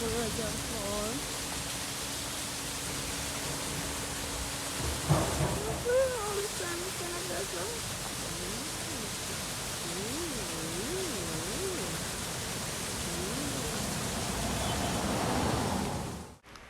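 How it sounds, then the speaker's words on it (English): Water rushes steadily in a broad, unbroken roar from a waterfall near a St. Thomas beach. A voice hums or talks softly over it partway through. "Beautiful waterfall."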